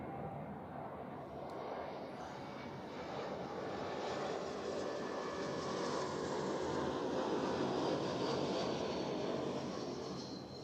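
An Airbus A220 landing at Zurich Airport in calm wind, its jet engine roar building gradually from a moderate distance to a loud, sustained pass before easing slightly at the end, with no voices.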